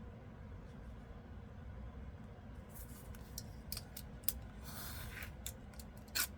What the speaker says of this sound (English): this is the one I'm gonna have to trim a smidge off